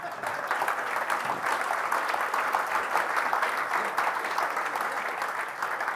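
Steady audience applause fills the room at a talk on social engineering, a dense, even patter of many hands clapping for several seconds with no voices over it.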